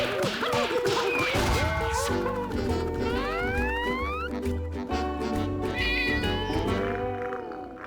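Gary the snail from SpongeBob SquarePants meows in a Battle for Bikini Bottom mobile game cutscene: several drawn-out, rising cartoon meows over steady background music, with a few clanging hits mixed in.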